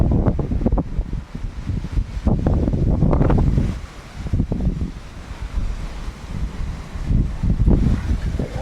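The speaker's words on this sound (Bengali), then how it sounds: "পশ্চিমা হাওয়া, পশ্চিম দিক থেকে হাওয়াটা হচ্ছে" Kalbaishakhi storm wind gusting from the west through trees on a morning, a loud continuous roar with surging peaks and lulls, no voices.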